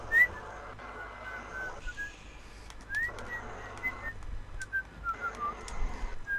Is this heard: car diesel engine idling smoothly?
no